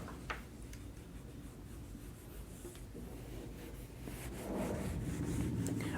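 Chalk or pen scratching steadily across a board during a Hindi-language maths lecture on exponents, a continuous soft scraping that grows slightly louder toward the end, with no talking over it.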